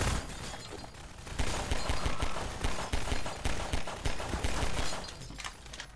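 Rapid gunfire rattles in dense, loud volleys in Hello Neighbor played in Garry's Mod, with shots packed closely together and no pause over several seconds.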